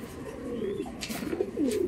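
Large pigeons coo in deep, rolling bursts, several overlapping throaty calls rising and falling close at hand, with a few brief higher rustles between them.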